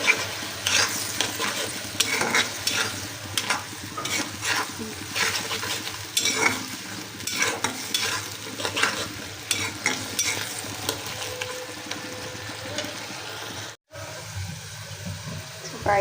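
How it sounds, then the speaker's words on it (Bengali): Onions frying with turmeric, chili powder and salt, a steady close sizzle broken by repeated stirring scrapes, with a short cut-off near the end; a voice speaks faintly at times. "পেঁয়াজ ভুনা করবো"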